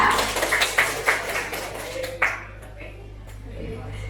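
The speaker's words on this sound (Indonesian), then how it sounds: "Ayo, tepuk tangan untuk kelompok 3." A small group claps for group 3 in a classroom presentation, a few scattered, uneven claps that thin out quickly over a low hum, with voices in the room.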